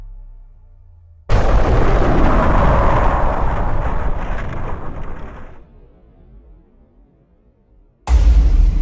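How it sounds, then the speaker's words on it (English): After a quiet moment a loud explosion bursts close by, its roaring rumble fading slowly over several seconds before another sharp, heavy blast hits at the end. "There was an explosion,"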